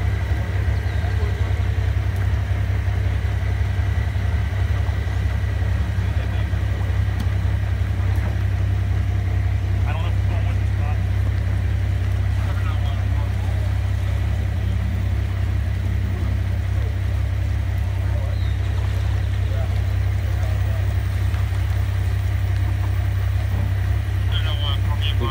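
A new Houston Police Department rescue truck idles during a water rescue in the Greens Point area, its low, steady engine drone continuous throughout, with faint background voices and scattered activity over it.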